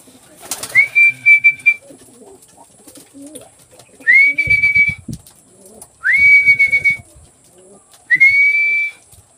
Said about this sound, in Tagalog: Sisipulan natin pag nagpapainom tayo para sanay yung maibo natin mga kalapatids